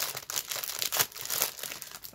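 Close crinkling and tearing of wrapping paper as a Christmas gift is opened slowly, a continuous rustle with sharper crackles throughout and no talking.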